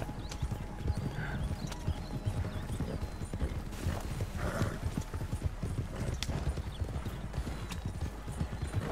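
A horse's hooves clip-clop in a steady, continuous rhythm in the video game Red Dead Redemption 2, with occasional snorts and faint ambient noise underneath.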